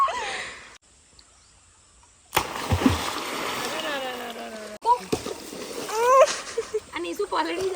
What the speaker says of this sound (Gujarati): જમ્પ મારશે તો બધું જ પાણી બહાર આવી જશે